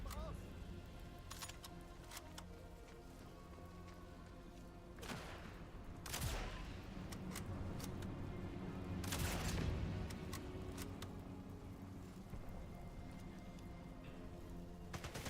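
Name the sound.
rapid-fire SMG gunfire in Sniper Elite video game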